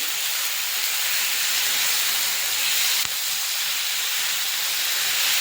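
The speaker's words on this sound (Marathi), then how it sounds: "टमाटर सॉफ्ट होईपर्यंत छान असं परतवत राहायचं" Tomatoes sautéing in a pan with a little salt give a steady, close hiss of steam that holds evenly throughout, with a brief tap near the middle.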